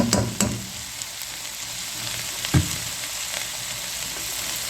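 Soy sauce sizzling as it is added to a pan of frying chicken macaroni, a steady hiss with a few sharp spatters and clinks near the start and midway, no talking.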